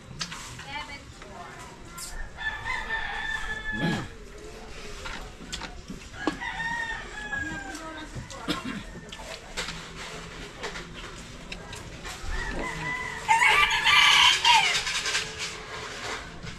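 Roosters crow several times, some close and some farther off, while people chatter in the background and a louder crow comes near the end.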